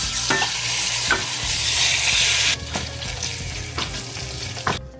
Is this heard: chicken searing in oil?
yes